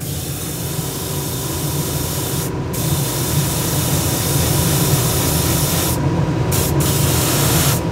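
A Procon Boy LWA trigger-type double-action airbrush with a 0.5 mm nozzle sprays paint in a steady, loud, close hiss that continues without a break, with brief changes in tone near the middle and end.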